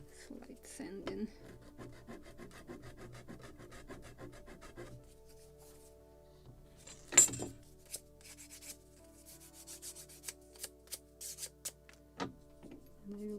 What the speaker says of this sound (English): Just in the very end, slight sanding